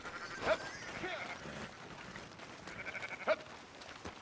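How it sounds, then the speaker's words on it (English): A herd of sheep bleats in the Red Dead Redemption 2 video game as they are driven to auction from a ranch, with two clear nearby bleats and fainter ones over a murmur of ambient noise. "There's a herd of sheep coming down to auction from Emerald Ranch."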